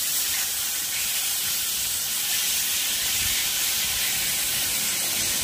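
Boiled taro leaves dropped into a hot pan of spices give a steady, loud hiss that runs unbroken throughout, with no voices over it.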